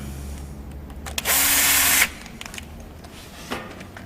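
Cordless power tool driving screws while fitting a towing mirror to a Mitsubishi Pajero, one close, loud burst of motor whir lasting under a second, then quiet handling clicks.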